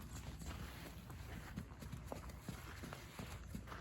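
Horse hooves thudding in an irregular clip-clop during a riding lesson at a farm, fairly faint and continuous under a steady background of ambient noise.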